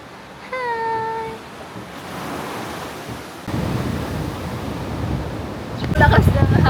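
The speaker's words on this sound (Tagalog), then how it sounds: "Lakas ng hangin." Strong wind blows outdoors by the sea, buffeting the microphone in gusty surges of rumbling noise that grow louder toward the end, with a brief tonal whistle early on and a voice speaking.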